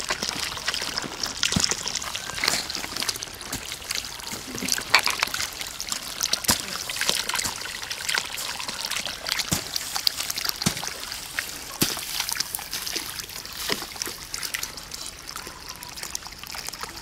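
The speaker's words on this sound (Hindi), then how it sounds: "ये जो मोटर दिख रही थी ये उसका पानी है" Water from a farm pump motor pouring and trickling out steadily, a continuous splashing flow close by with frequent small splatters and drips.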